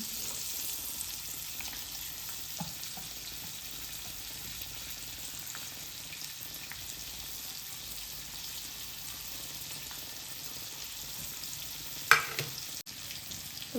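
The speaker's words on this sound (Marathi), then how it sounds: "सगळी मच्छी आहे ती तव्यामध्ये टाकून झालेली आहे" Pomfret fish frying on a flat griddle pan over a low flame, a steady soft sizzle running throughout with a brief clatter near the end.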